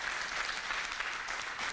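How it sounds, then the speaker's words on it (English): Steady applause from a convention audience at a boxing gathering, dense even clapping throughout, moderately distant and continuous with no break. "Can you clap for him, colleagues?"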